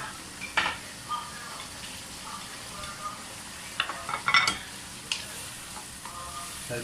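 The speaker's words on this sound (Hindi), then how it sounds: "अब इसमें हम टमाटर भी ऐड कर देंगे।" Tomatoes go into chops sizzling on a tawa pan, with a steady frying hiss and repeated scraping stirs of a utensil against the metal, close and fairly loud.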